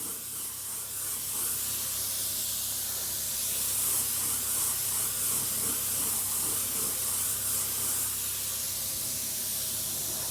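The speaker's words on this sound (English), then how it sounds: "See, we aren't getting a lot of overspray." Spray gun hissing steadily as it applies paint to a Stuart model steam engine base plate, run at low airflow; a continuous, fairly close airy spray lasting throughout with no pauses.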